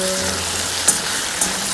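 Mushrooms with coriander and other spices simmering in an oiled pan, a continuous close frying hiss with a couple of brief clinks, heard alone.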